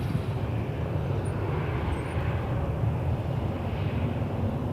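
A WestJet airliner on runway 23 at Toronto Pearson, a steady deep engine rumble and roar with broadband wind-like noise, holding constant at close range with no voices.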